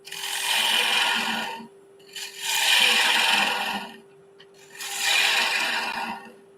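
Chisel draw cuts on a wooden egg cup spinning on a wood lathe, three long broadband scraping passes of about a second and a half each, separated by short pauses, steady hum beneath.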